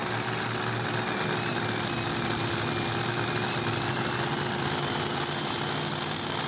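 Supercharged alcohol-fuelled dirt dragster engine idling at a Kenansville, Florida mud drag event, a steady, loud, rough rumble that holds continuously with no talk over it.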